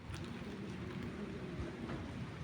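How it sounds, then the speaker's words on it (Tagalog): Steady rain hisses continuously with a low rumbling undertone, fairly faint and even throughout, with no voices. "Ulan na, tara na, pasok na tayo."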